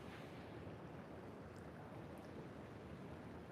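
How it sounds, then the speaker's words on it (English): Gold Coast ocean surf rolls in a steady, broad wash at the point near Snapper Rocks. The roar is fairly faint and distant, with some wind, and no voices are heard. "We've got the waves out the point there."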